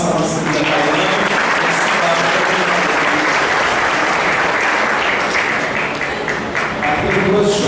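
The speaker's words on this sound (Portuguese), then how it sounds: "Dá uma salva de palmas" A church congregation at Sunday Mass applauds with dense, sustained clapping that fills the room for the whole stretch, loud and even.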